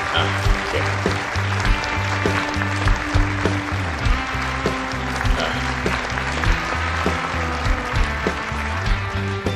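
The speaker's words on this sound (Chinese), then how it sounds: "让我们用热烈的掌声，有请熊大集团董事长林永雄先生携夫人赵美华女士" Warm applause from banquet guests at a group's 20th-anniversary dinner as the chairman and his wife go up on stage: a steady, dense wash of clapping lasting the whole stretch, with music playing underneath.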